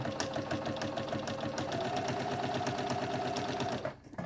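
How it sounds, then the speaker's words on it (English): A sewing machine runs steadily, stitching the big outer curve of a cloth face mask, its fast even mechanical whirr continuous and close before stopping abruptly near the end. "We're just going to stitch the curved part, the big outside curve."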